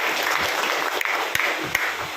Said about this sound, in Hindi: आपके लिए एक बार शानदार सी तालियां।